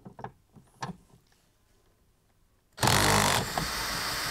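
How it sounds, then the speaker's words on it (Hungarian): A cordless drill driver starts with a sudden loud steady whir while winding down the support legs of a caravan. A few faint knocks and handling clicks come just before it, and nobody speaks. "ezzel a fúró csavarozóval szoktam a lakókocsinak a lábait fölle tekerni"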